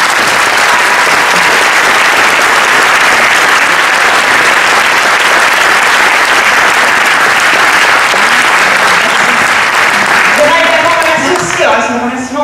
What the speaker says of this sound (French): j'aimerais qu'on les applaudisse